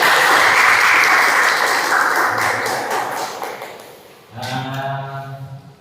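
A class applauds group 4 after its presentation in a teacher-training session, loud dense clapping that fades over four seconds before a voice starts speaking.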